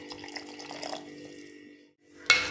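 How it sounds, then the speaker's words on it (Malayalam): Water pours into a cooking pot of buttermilk curry already seasoned with spice powder and salt. A faint hum gives way to a sudden close splash near the end, with no talk. "വെന്ത് കിട്ടാൻ ആവശ്യത്തിന് നമുക്ക് വെള്ളം ഒഴിച്ച് കൊടുക്കാം"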